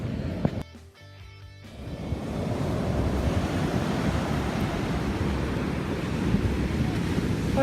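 Big ocean waves crash and roar continuously along a Brazilian shore near a hotel, a loud, dense wash of surf mixed with gusty wind noise on the microphone.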